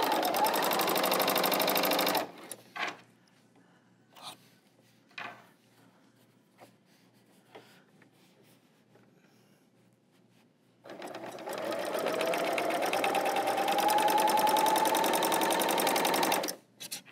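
A Baby Lock L890 serger sews quilting stitches through fabric, a close rapid mechanical whir running in two long bursts separated by a quiet pause with soft handling clicks.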